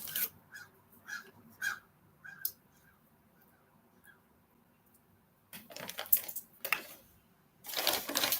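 A person imitating crow caws: a run of short, sharp, evenly spaced caw sounds at moderate loudness, followed by a pause and then a louder, noisier stretch of calls and clatter near the end.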